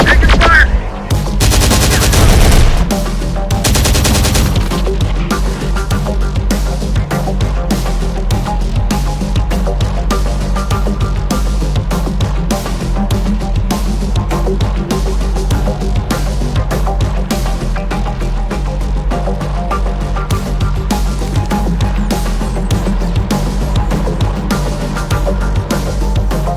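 Continuous rapid automatic gunfire and explosions fill a Terminator Dark Fate Defiance battle, loud and dense throughout, with an especially heavy barrage early on and brief voiced callouts mixed in.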